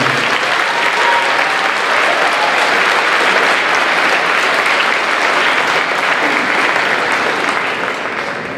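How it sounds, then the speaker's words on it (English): A school audience applauds the teachers at an elementary and grade 8 band concert, sustained loud clapping from many hands that holds steady and begins to taper at the very end. "So let's just give a round of applause for our teachers."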